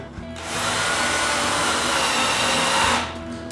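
A power drill whirs steadily for about two and a half seconds while setting rods into a handmade wooden tripod, rising sharply at the start and cutting off near the end, close and loud with no talking.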